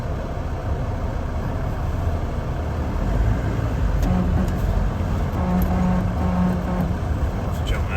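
Steady low rumble of cars idling and creeping along in a traffic jam, a continuous road-vehicle drone with occasional engine hum rising, while people talk over it.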